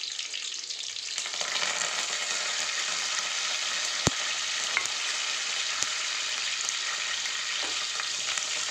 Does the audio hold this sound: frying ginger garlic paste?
yes